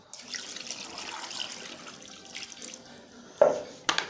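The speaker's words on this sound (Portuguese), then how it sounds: "Vou colocar aqui 500 ml de água" Water runs and splashes as 500 ml is poured into a cooking pot in a home kitchen, a soft continuous stream followed by two sharper splashes or clanks near the end.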